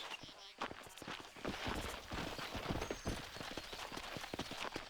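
Horse hooves clip-clopping in the Western game Red Dead Redemption: a quick, irregular run of soft thuds at a faint, distant level, with a little background noise and no clear speech.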